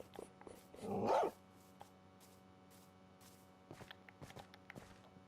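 Dogs in the Minecraft video game, a short burst of barking or growling around one second in, loud against a quiet background, then only faint scattered steps and small game noises.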